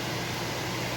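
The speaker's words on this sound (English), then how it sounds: "y'all will have to excuse my fan in the background" An electric fan whirs steadily nearby, a constant broadband airy hum with no change in level and no voices over it.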